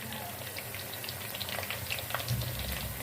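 Spinach pakoras fry gently in oil over low heat, giving a steady, soft, close bubbling and fizzing with no talk.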